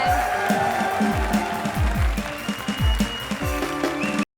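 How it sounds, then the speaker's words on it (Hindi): Studio audience applause on a televised comedy show, steady clapping mixed with a music bed and rhythmic low thumps. "जोरदार तालियां हमारी इस डिग्री के लिए."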